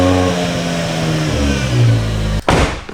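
A cheap used BMW V10 supercar with sparkly oil and suspected brake trouble revs hard, its engine note rising and falling up close before cutting off abruptly with a sharp clunk.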